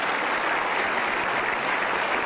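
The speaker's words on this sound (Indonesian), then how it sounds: "Iya, kita berikan aplaus." A crowd at an honorary teachers' gathering in Sumenep claps loudly and steadily, a dense, even wash of applause that holds without a break and with no speech over it.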